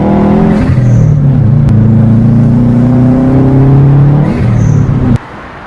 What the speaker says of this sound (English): I have that HKS blow-off valve sound a little bit after it flutters first